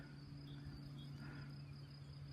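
A swarm of honeybees hums from a tree branch outdoors, a steady, quiet drone with a constant pitch and no talking.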